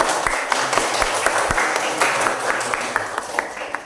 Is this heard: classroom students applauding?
yes